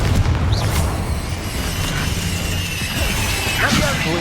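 Fiery Confringo blast spells go off in Hogwarts Legacy, booming crashes and bursts layered over dense battle noise while voices talk over them.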